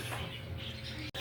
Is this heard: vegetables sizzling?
no